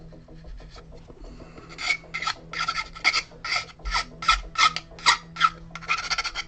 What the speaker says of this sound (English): You might miss this filing noise, which is truly charming.